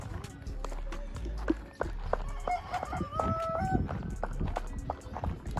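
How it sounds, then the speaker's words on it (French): A rooster in Cape Verde crows several times in the morning among rustling, footsteps and a busy yard, mid-distance and fairly clear. "ce poulet là, toujours le matin, il fait que de crier"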